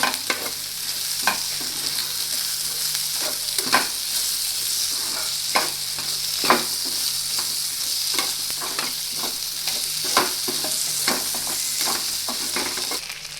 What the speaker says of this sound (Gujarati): અને પછી તેને હલાવીને મિક્સ કરી લેશું.